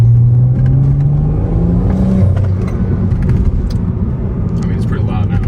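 A BMW N55 engine fitted with a short intake drones loudly and continuously up close, its pitch shifting slightly as it revs and eases off, with a faint whirring underneath.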